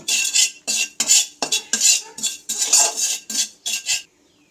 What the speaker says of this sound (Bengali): চাট মশলা শুকনো কড়াইয়ে এভাবে নেড়ে নেবো আর লবণটা এখানেই দিয়ে দিলাম